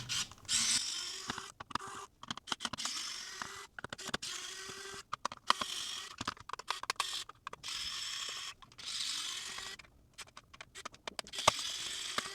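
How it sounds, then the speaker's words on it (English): Small Y-bit screwdriver backing out six tri-wing Y-shaped screws from a Game Boy Color shell, giving quiet close clicks, creaks and scraping taps in irregular bursts with short pauses between. "So I've got a Y bit, and it should just be 6 screws to open her up."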